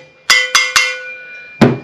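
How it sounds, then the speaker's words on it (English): A hammer taps the valve stems of a Kawasaki FX850V engine cylinder head to seat the new valves: three quick, sharp metallic strikes with ringing overtones, a short pause, then one more close, loud hit. "hit the stem a couple times with my hammer, make sure they're seated good"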